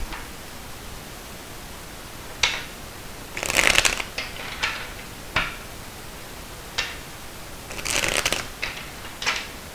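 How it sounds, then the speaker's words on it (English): Tarot cards being shuffled and drawn, with brief riffles, a couple of longer shuffling bursts and soft flicks and taps of cards at a close distance over quiet background hiss. "let's pull some more cards"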